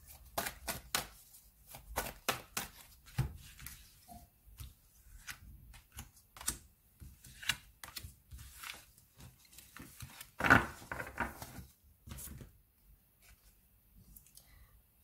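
Playing cards shuffled and snapped on a table during a tarot-style reading, a quiet run of crisp riffles, taps and flicks spread over the whole stretch, fairly close and with no talk over it.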